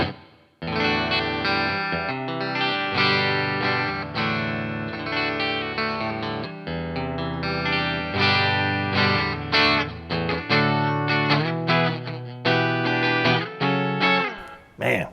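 Electric guitar with a full-thickness body, played through a clean amp setting on the bridge pickup, strumming chords and picking busy melodic runs, close and steady for about fifteen seconds with no talking over it.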